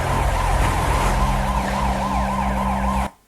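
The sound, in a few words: sirens echoing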